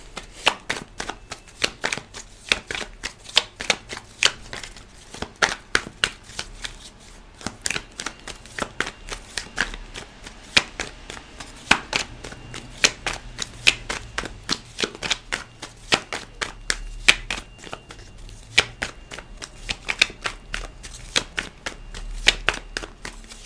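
Tarot cards are shuffled close up in a steady run of rapid crisp riffling slaps that continues without pause, with no voices.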